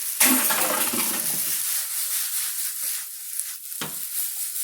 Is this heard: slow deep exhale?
no